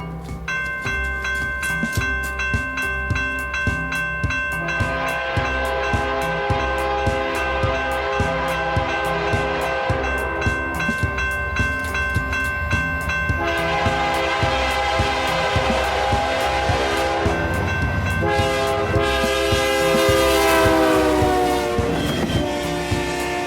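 A BNSF freight train led by an H1-9 locomotive rolls past loud and close, with steady rhythmic wheel clatter over rail joints and several long, blaring horn blasts repeated throughout.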